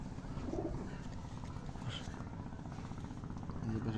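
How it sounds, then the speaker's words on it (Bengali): Racing pigeons of the padam breed coo softly in their loft, low throaty calls repeating a few times under a constant murky background hum, faint and somewhat distant. "এই যে আরেকটি কবুতর, কালো গলা প্যাডামের কবুতর"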